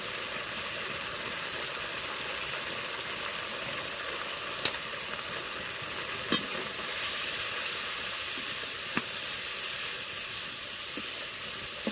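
Spices fried in oil for aloo matar paneer: salt, turmeric and Kashmiri red chilli powder cooked down in a pan, giving a steady, fairly faint hiss and sizzle with a few soft clicks of stirring and no voices.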